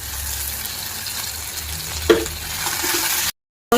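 Onion, tomato and coriander sauté in a pan for a Marathi dal kanda dish, a steady close sizzle with a brief stirring scrape partway through.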